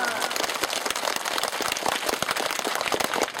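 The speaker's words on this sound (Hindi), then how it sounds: "जोर ताली बजाओ" Schoolchildren in a government primary school clap together on request, a dense, fast crackle of many hands filling the room steadily for a few seconds.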